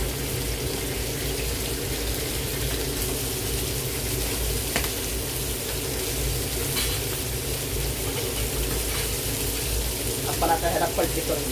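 Rawas fish frying in a pan gives a steady close sizzle with a low hum beneath it and a few soft clinks near the end.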